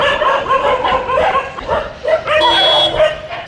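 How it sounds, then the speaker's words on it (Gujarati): A puppy yips and barks in quick bursts, breaking into high whimpers, loud and close, with no voices over it. "અત્યારે ગલુડિયાને લેવા માટે મ્યુનિસિપલની ગાડી આવી હતી"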